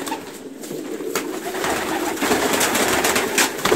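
Pigeons, including crowned birds, coo inside a loft, soft repeated throaty calls that stay close and steady over a constant broadband rustle, with a few brief knocks and flutters in the background.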